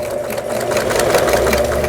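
A Pfaff 3.0 sewing machine stitches through fabric as the pedal is pressed, giving a loud, close, continuous fast whirring rattle.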